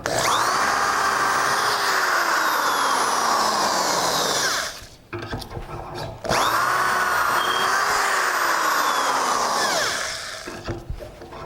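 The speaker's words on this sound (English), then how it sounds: "now we're drilling this way." Two long, loud runs of a power drill boring into wood through a Dowelmax doweling jig, the motor whining steadily and close up, with a brief pause of small handling clatter between the runs and a softer tail at the end.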